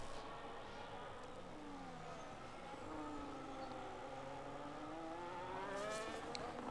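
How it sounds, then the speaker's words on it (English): McLaren race car engines in a racing video game at the Spain circuit, a steady layered whine of several engines with rising and falling pitch sweeps as cars pass through the final sector, continuous and moderately distant. "There's a McLaren going slowly through the final sector"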